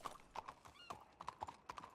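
Horse hooves clip-clop in a steady, rhythmic trot through the WildRP frontier roleplay game, fairly close and clear, with a brief whinny-like tone mixed in.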